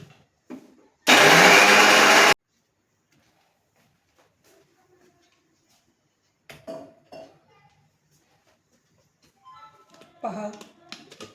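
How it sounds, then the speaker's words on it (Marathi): A kitchen mixer grinder blending jamun (java plum) juice gives one loud, dense whir of about a second, followed by quiet clinks and a few bits of speech. "आता हे आपण मिक्सरमध्ये काढून घेणार आहे."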